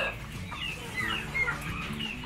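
Aseel and other large fowl on a village chicken farm give soft, repeated clucks and short calls against quiet farmyard background, moderately near and fairly faint.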